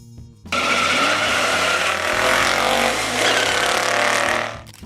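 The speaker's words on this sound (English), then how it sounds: "The 1969 Mercury Cougar Eliminator 428 Cobra Jet." A 1969 Mercury Cougar Eliminator with a 428 Cobra Jet V8 roars loud and close, its engine and tire noise rising abruptly and holding a dense, sustained rush before fading at the end.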